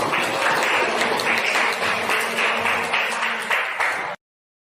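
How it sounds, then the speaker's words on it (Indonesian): Applause from an audience at a school teachers' coaching and academic supervision session: a steady burst of many hands clapping together for about four seconds, then stopping abruptly into silence. "Satu aplaus semangat untuk kita semuanya."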